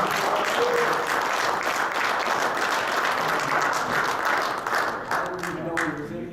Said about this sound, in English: Give this man another round of applause